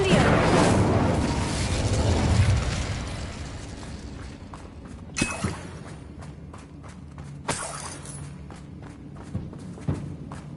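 An Incendio fire spell from the video game Hogwarts Legacy erupts as a loud, roaring fiery rush that fades over several seconds, followed by a few sharp impact thuds and soft footsteps.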